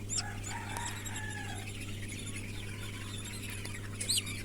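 Baby chicks kept for poultry rearing, with their beaks being seared, peep in several high, thin chirps over a steady low electrical hum, most noticeable near the start and again briefly near the end.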